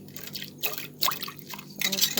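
Water splashes and trickles in short pours into a pot for Jamaican rice and peas, with light clinks, fairly close and fairly loud.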